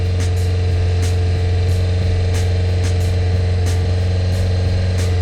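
Honda CBR600F4 motorcycle engine idling just after a carburetor rebuild, a steady low rumble throughout with faint ticking and wind noise on top, no talk.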